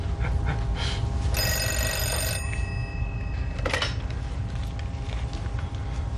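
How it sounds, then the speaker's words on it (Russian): A telephone rings with a bright, trilling electronic bell for about a second, followed by shorter ringing tones, set over a steady background hum with no talking. "Жена звонит."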